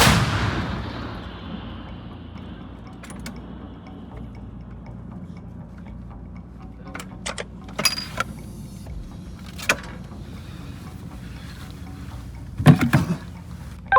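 An M119 howitzer fires a heavy blast that booms at the start and rolls off in a long echo through forest, followed by scattered sharp bangs and another deep thud near the end.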